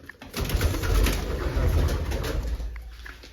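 Pigeons, including a white homing pigeon, coo softly and continuously in a loft, a low steady burbling with no talk.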